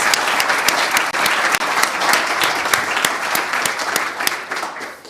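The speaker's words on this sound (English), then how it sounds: "Give him another round of applause" Steady, dense audience applause fills a community talk event, many hands clapping at once with sharp individual claps standing out, sustained and fairly loud throughout.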